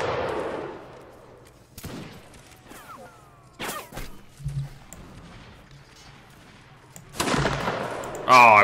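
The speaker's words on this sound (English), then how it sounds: "And I think the Jaegers have rifles." Rifle shots crack out in Mount and Blade Napoleonic Wars, with several loud, separate gunshots spaced a second or two apart, mixed with battle noise and a faint voice.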